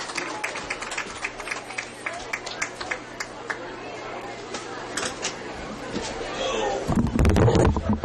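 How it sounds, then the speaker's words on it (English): Crowd at a high school football game on senior night, with scattered clapping and chatter that swells into fuller applause near the end, while people talk throughout. "a round of applause and thanks to all these men and women"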